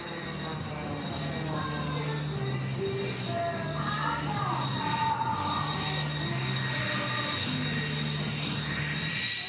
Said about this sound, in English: She's flying an Edge 540 aircraft.